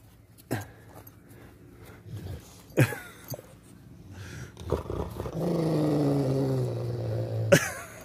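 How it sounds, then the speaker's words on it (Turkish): A Rottweiler growls in several short bursts, then lets out one long, deep, sustained rumbling growl close by, with no one talking over it. "O sana hırlar, bana hırlamıyor."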